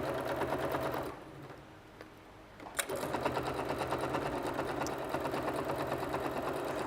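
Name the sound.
sewing machine stitching around quilted Christmas panel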